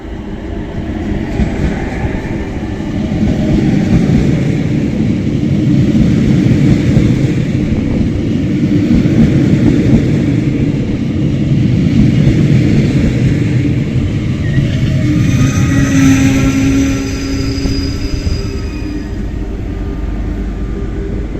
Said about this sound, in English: the fans in the passenger area are so loud you can't hear the motor sound